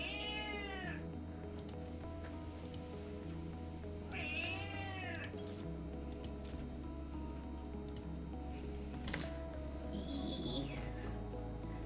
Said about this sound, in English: My cat is going crazy on the background.